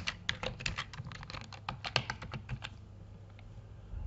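Rapid typing on a computer keyboard while entering data into a Microsoft Word document, a dense run of close clicking keystrokes for about three seconds before tapering to a few isolated taps over faint room noise.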